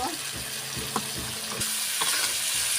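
Green banana and potato chunks stirred in a hot pan with turmeric, a steady frying sizzle broken by scraping spatula strokes, close and continuous with no talk.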